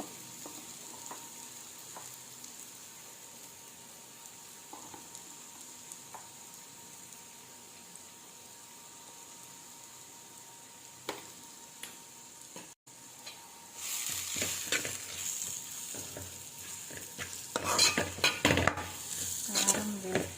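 Tomato and chili powder frying in a pan for egg curry, quiet low simmer at first, then louder sizzling and stirring with utensil scrapes building toward the end, no voices.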